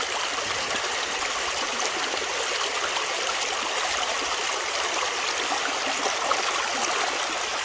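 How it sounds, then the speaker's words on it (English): Creek water runs steadily beside a gold-prospecting sluice, a continuous broadband rush and trickle that stays close and even throughout, with no voices over it. "There's nothing like getting out by a creek, running the sluice."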